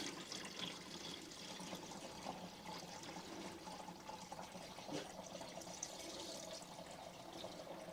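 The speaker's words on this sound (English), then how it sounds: "I guess we should just get the pan ready and drain away" Old engine oil drains from a seized BMW engine, left sitting for 30 years, into a waiting pan, making a steady, faint, continuous liquid trickle and splash with no talking.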